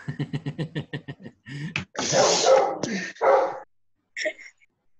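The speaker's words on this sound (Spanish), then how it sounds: "Edgar, controle a su perro." A dog barks in a quick series of close yips during an online class session, followed by a few louder, longer bursts that could be barks or voices, then a short sound near the end.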